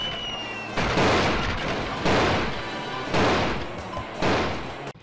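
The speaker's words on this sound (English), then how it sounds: "like, snowballs that come crashing down" Snowballs crashing down in the GameCube/PS2-era SpongeBob SquarePants: Battle for Bikini Bottom, four loud, repetitive booming impacts about a second apart, each a harsh crash with rumbling tail, no talking.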